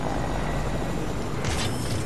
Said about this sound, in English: I'm just gonna take this helicopter and dip.